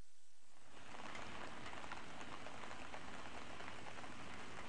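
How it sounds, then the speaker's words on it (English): Steady rain patters and hisses on surfaces outdoors on a rainy day in Miyazaki, southern Japan, a dense, even wash of drops fading in at the start and continuing without voices. "It's a rainy day in Miyazaki,"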